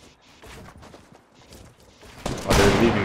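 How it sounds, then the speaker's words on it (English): Gunfire in the Fortnite video game during a squad match, a burst of shots building to a loud, dense volley near the end, with quieter shooting and a voice at the start. "Keep shooting at him."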